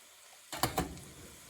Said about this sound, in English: So what I add to mine is a can of diced tomatoes.